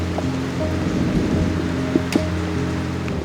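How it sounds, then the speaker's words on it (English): Heavy rain pours steadily during a violent thunderstorm in Slovenia, heard from shelter at a gas station, with a broad continuous wash and a couple of sharp crackling bursts near the end. "just got caught in a very bad thunderstorm in Slovenia"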